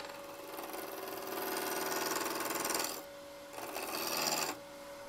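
A wood lathe spins a wig stand blank while a gouge rides the bevel, giving a continuous rasping cut with a steady whine that drops away twice as the tool lifts off and comes back in.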